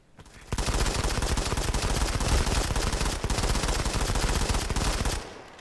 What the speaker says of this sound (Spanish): ¿cuántos disparos hay que darle?